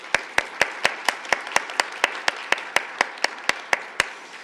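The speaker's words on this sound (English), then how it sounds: "So let's give them all a round of applause." Audience applause at a university tea symposium after student presentations, heard as a steady run of sharp, evenly spaced claps about four per second, fairly close and with no voices over it.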